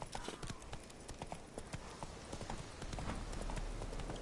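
Horse hooves clip-clop steadily at a walking pace in the Witcher 3: Wild Hunt video game, a close, regular stream of hoof strikes over a dense ambient background.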